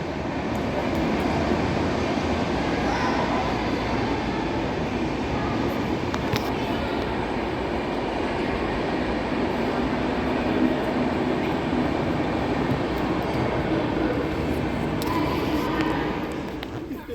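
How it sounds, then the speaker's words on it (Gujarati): A train passing near a temple on a day trip, a continuous loud rumble that fills the whole stretch and eases off slightly at the end, with no clear talk over it. "જો આ ટ્રેન જાય."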